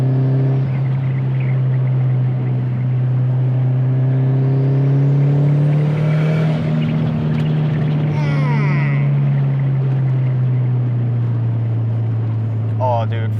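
A 450 WHP Subaru STI pulls hard along a mountain road, its engine rumbling as a low drone that holds steady and loud. People talk over it the whole way.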